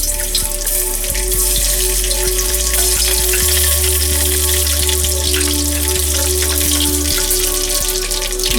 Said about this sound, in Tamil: கடுகு, உளுத்தம்பருப்பு, ஜிஞ்சர் ஒரு சின்ன ஸ்லைஸ் கட் பண்ணி, கிரீன் சில்லி, ரெட் ஆனியன், கறிவேப்பிலை, மற்றது ரெட் சில்லி இவ்வளத்தையும் போட்டு தாளிக்க போகிறோம்